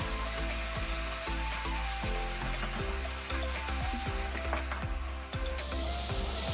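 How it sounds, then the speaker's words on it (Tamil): Chopped tomatoes fry in a pan, a loud continuous sizzle with regular scrape-and-stir strokes of a spatula, easing slightly toward the end, with no talking. "இப்போ நம்ம கட் பண்ணி வச்ச தக்காளியை இதில் ஆட் பண்ணிடலாம். தக்காளி நல்லா ஃப்ரை ஆகட்டும்."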